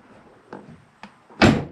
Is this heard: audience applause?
no